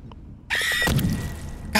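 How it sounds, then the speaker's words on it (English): Monster screams in the video game GTFO come as sharp, piercing shrieks, one after another with brief breaks, loud and near, set against a grainy noisy background. "Goddamn monkey screams."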